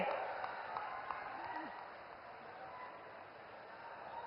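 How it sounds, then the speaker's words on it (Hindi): Steady applause from a large crowd at a Prime Minister Narendra Modi rally in East Champaran, Bihar, a dense wash of clapping held at an even level throughout, with faint voices mixed in. "जोरदार तालियां बजती रहनी चाहिए"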